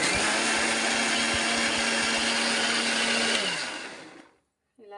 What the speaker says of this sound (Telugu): మిక్సీ అయితే పట్టుకుందాం మనం.